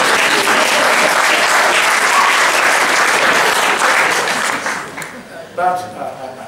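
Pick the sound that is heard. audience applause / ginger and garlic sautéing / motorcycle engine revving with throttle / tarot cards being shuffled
audience applause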